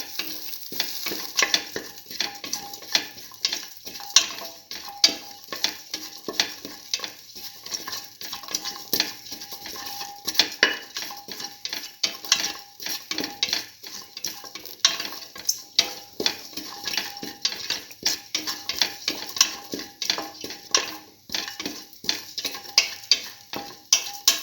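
Shallots and fennel seeds sauté in a pan for a tomato and split pigeon pea wrap, a continuous crackling sizzle with frequent clinks and scrapes of a utensil stirring against the pan, close and steady throughout with no voices.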